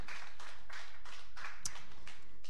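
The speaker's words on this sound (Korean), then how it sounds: "박수 한번 더 뜨게 쳐주셔." Rhythmic clapping from a church congregation, about six evenly paced bursts of many hands, with a sharper single clap standing out near the end.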